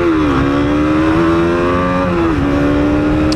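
A 2021 KTM 200 Duke motorcycle's single-cylinder engine revs hard and climbs steadily toward top speed, with a brief dip at each gear shift, loud and close throughout with steady wind noise.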